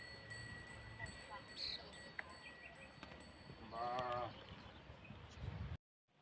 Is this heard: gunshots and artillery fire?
no